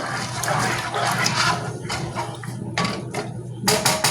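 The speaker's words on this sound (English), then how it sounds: "Give that a good stir" Rice with frozen peas, carrots and green beans is stirred in a pot of water, giving sloshing, watery swishes and several sharp scraping bursts against the pot, close and fairly loud.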